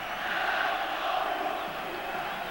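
Steady roar of a Yugoslav football crowd on the stadium terraces, a dense continuous wash of massed voices with swelling chants, heard from a distance.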